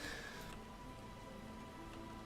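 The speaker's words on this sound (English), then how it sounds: "Oh, it's like raining out here." Steady rain falling outdoors in the video game Final Fantasy XIV, a soft continuous hiss of drops with a faint tonal game hum underneath, no talk.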